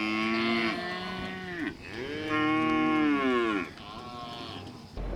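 Cattle low loudly at night during a storm as the herd breaks out, two or three long drawn moos rising and falling, close and clear.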